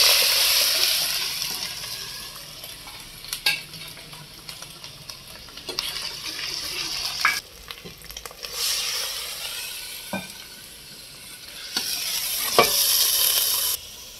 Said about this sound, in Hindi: यहाँ पे अदरक लहसुन का पेस्ट जाएगा